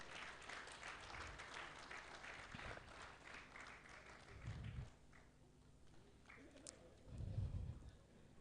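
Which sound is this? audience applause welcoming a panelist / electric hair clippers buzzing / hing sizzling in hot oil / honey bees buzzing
audience applause welcoming a panelist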